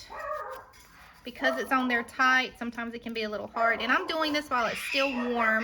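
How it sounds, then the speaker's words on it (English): Dogs bark and yip in a home, several sharp barks mixed under someone talking close to the microphone. "so of course the dogs are barking like crazy"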